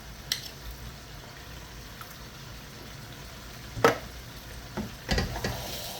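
Tomatoes cooking in a pan for a lasagne sauce give a soft, steady sizzle with occasional stirring scrapes and a few brief louder clatters, heard alone with no talking.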